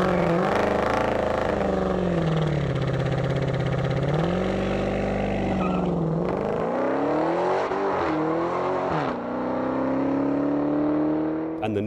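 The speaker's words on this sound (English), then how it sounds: "you stand on that gas pedal and 707 horsepower start charging through to the rear wheels" A 2015 Dodge Challenger SRT Hellcat with a 707-horsepower engine accelerates hard. Its loud, steady roar climbs through the gears, with pitch drops at each shift and no pauses.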